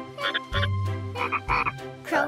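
A cartoon frog croaks in a few distinct, resonant calls over a steady low hum, loud and close, with no talking.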